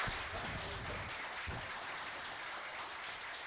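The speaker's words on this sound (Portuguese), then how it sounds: "para uma salva de palmas" Applause from a seminar audience on public ethics, a steady dense patter of clapping that stays fairly even in level for a few seconds with no talk over it.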